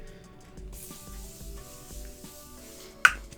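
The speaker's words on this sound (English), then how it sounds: "I'm taking my Morphe Continuous setting mist to lock that all in." A few pumps of Morphe Continuous setting mist release a soft, fine hiss lasting about two seconds, close and quiet, followed by a sharp little click.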